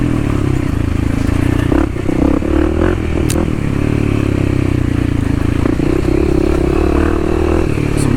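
Kawasaki KLX 300 dirt bike ridden over a rocky trail on the Hatfield McCoy Trails, a loud continuous engine drone with rattling, scraping clatter of rocks and the bike's parts, close to the rider.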